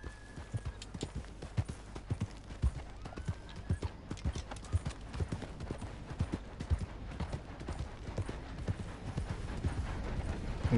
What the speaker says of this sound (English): voy a seguir en el caballo